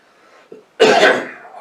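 A single sharp cough from a man, short and close, following a brief quiet throat sound, with nothing else around it.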